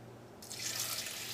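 Water pours into a mixer jar in a steady hissing stream, starting abruptly partway through after a near-silent opening, close and fairly loud.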